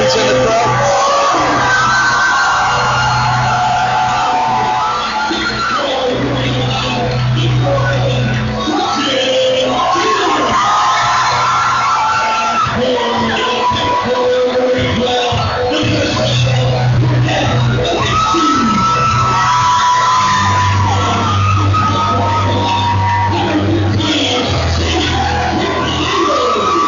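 Crowd of school basketball fans cheering and yelling in a gym during a high school tournament game, a loud, continuous roar with whoops and shouts layered over it.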